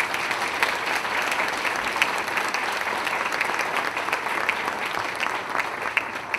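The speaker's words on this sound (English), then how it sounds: "So a round of applause to Mrs." Sustained applause from the audience at a high school alumni hall of fame awards ceremony in Plainfield, New Jersey, honoring a scholarship donor; dense, steady clapping fills the hall from start to finish with no voices over it.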